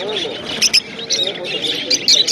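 Lutino lovebirds and cockatiels call at a pet market in a quick series of sharp, close chirps and squawks, heard under people talking.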